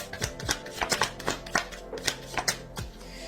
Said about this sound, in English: I know the shuffling's very, very boring